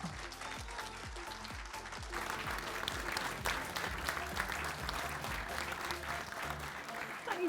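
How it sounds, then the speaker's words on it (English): A crowd claps for a speaker being welcomed onstage, starting with a few distinct near claps and a low thumping beat underneath, then swelling into a steady, moderately quiet wash of applause. "give her a massive round of applause"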